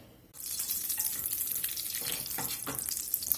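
Sliced onions hit butter and high smoke point oil in a hot skillet, bursting into a loud sizzle after a brief quiet moment, then a steady crackling fry with a few sharper pops.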